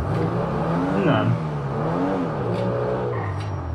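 A boxer-engined car accelerates close by, its engine note rising and falling through gear changes with a throaty, continuous drone.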